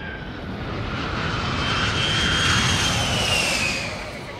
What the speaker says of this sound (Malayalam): the flight is taking of